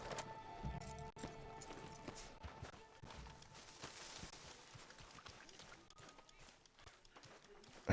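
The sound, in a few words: horse hooves clip-clopping in a video game camp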